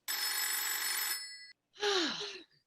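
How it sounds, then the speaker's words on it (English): A telephone rings in a dramatic reading: a long, bright electronic trill, then a short pause and a second shorter burst, clear and fairly close with no voices over it. "We hear the sound of a phone ringing."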